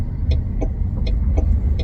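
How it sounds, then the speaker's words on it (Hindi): A car approaches from behind on a road, heard from inside an electric car as a low, steady rumble with soft ticking pulses at a regular rhythm. "पीछे से कार आ रही है वैसे तो।"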